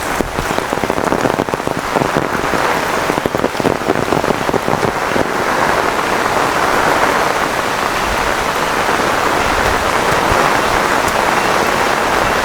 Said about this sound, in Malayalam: ഇവിടെ നല്ല മഴ തുടങ്ങി